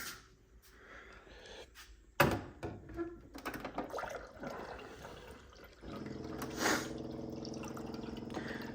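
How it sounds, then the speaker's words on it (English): Water runs into a cup from a tap after a knock or two, building into a steady, close pouring and filling rush that continues to the end. "Then we go get a little bit of water."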